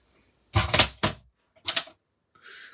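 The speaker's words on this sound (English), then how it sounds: "Now I'm going to cut it down to about there" Paper being trimmed to size for a handmade card: a few short, crisp cutting strokes in quick succession, close by, followed by a brief lighter scrape after a pause.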